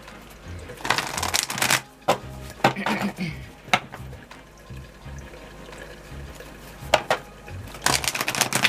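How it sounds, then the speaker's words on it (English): Tarot cards being shuffled close up, several bursts of crisp riffling and slapping with brief pauses between them and faint handling noises in the quiet gaps. "Let me shuffle one more time."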